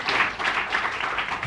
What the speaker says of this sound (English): I think you deserve a huge round of applause for that.